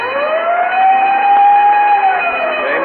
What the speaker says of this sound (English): whenever you hear the siren and bell, think of Texaco Fire Chief Gasoline